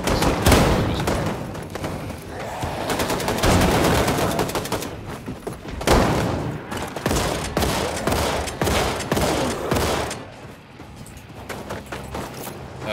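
Heavy, rapid automatic gunfire in Wolfenstein II: The New Colossus as canisters are shot, loud dense bursts with brief pauses and booming impacts, sustained and close.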